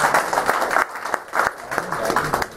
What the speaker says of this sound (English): On your way, give a big round of applause.